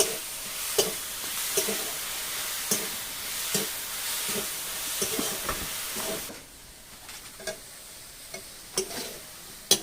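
Maida, coconut and sugar mixture stirred in a pan, a spoon scraping in repeated close strokes over a soft steady sizzle, turning quieter partway through.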